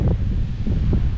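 Wind blows across a mountain ridge on the Taconic Crest Trail, a low steady rushing roar that buffets the microphone with soft gusty swells, close and fairly loud, with no voices.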